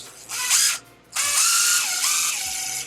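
An M4 screw is driven into the body mount of an Axial Basecamp RC rock crawler. A powered driver whirs loudly in two close bursts separated by a brief pause.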